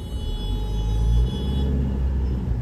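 Heavy road traffic at Silk Board junction, a continuous low rumble of cars and buses close by, with steady engine drone and faint high whine, no voices.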